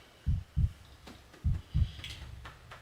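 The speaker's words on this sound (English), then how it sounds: "Ooh, it's a heartbeat." A heartbeat effect in a K-pop song, two paired low thumps, a pause, then two more, steady and close with faint background hum.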